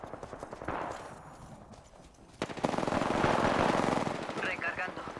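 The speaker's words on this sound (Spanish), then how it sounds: "¡Me están disparando! ¡Disparando!" Rapid automatic gunfire bursts in the battle-royale video game Apex Legends, a short volley early, then a denser sustained stretch of shooting, loud and close, with game voice lines audible at points.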